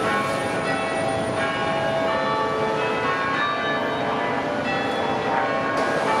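London church bells ring continuously with dense overlapping tones, loud and reverberant, a full peal with no talking.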